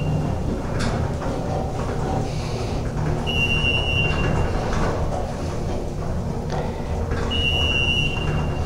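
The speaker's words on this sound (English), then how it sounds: "Ooh, listen to that motor." A hydraulic elevator motor at a T.F. Green Airport parking garage runs as a steady low hum and rumble, with occasional clunks and brief high whines over a continuous loud drone.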